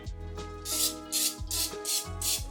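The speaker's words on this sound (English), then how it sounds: "I'm simply going to spray it with some cooking spray" Four short hissing bursts of cooking spray onto a bread loaf pan in a steady rhythm, close up, over a background hum with tonal whines.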